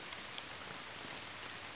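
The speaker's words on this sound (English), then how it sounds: "Even drenched in rain." Rain patters steadily on surfaces in a quiet outdoor setting, a soft continuous hiss with a few faint drips standing out close by.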